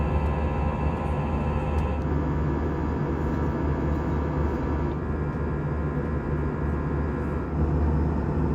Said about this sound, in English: Taking off out of Cologne in Germany, we begin our 2-hour 10-minute flight to Stockholm Arlanda Airport in Sweden.